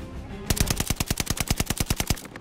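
Rapid automatic gunfire in the Call of Duty: Vanguard Hardpoint match on the Tuscan map, a fast, even burst of roughly twenty close, loud shots lasting about two seconds with no talk.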